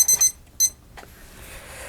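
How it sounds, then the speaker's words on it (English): A kitchen timer alarm going off with three quick high-pitched electronic beeps, close and clear, followed by a soft rustle. "Oh, there's our timer."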